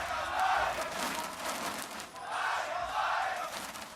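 A large esports arena crowd at a 2017 MSI Play-In League of Legends match roars and chants in two loud rising swells, with no talk over it.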